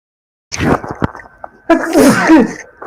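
A loud, explosive sneeze bursts out after a short silence, followed by a strained, noisy exhale; close to the microphone.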